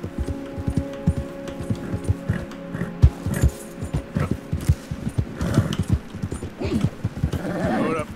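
Horse hooves clip-clop steadily while riding in the video game Red Dead Redemption, a close, even trotting rhythm over a low background hum, with a brief whinny-like note near the end.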